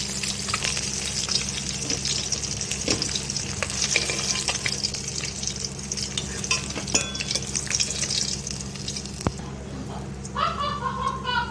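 Pieces of silver carp fish frying in hot oil for a kalia, giving a steady, close, even sizzle that holds for the whole stretch, with a few faint clinks and a short trickle near the end.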